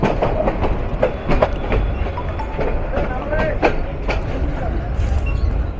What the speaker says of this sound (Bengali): বড়খাতা স্টেশনে আমাদের বুড়িমারি কমিউটার প্রবেশ করলো।